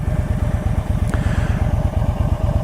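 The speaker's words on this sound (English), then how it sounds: "1304cc, 4-cylinder, liquid-cooled motorcycle, designed to give that custom chopperish look and feel with a raked-out front-end fork." A 1304cc four-cylinder liquid-cooled chopper-style motorcycle with two-into-two exhaust idles close by, a steady low rumbling throb with rapid regular pulses and one brief higher clatter partway through.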